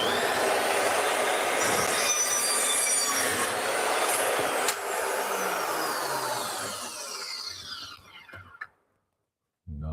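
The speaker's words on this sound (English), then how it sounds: "we'll do a cut on this thin wall pipe" A FEIN saw cuts through thin-wall pipe clamped in a vise, giving a loud, steady metallic screech and whine for about eight seconds before winding down and falling silent, with a brief knock at the end.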